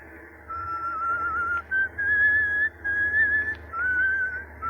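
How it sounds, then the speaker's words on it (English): A person whistles a wavering tune in clear, sustained phrases with short breaks, alone and close, over a low background hum from an old radio drama. "For the love of Mike, Larry, if you got a whistle, at least change that tune."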